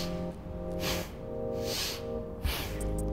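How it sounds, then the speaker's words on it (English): Forceful nasal inhales during a yoga breathing exercise, several sharp sniffing breaths in a steady rhythm, close and clear over a faint background. "it'll be a thrusting inhale"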